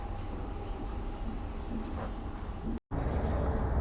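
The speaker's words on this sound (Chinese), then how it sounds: "这个火车在缓缓地开动" A train slowly pulls away at a station in Luxembourg, a low steady rumble of wheels and machinery at moderate distance, broken by a brief cut to silence near the end.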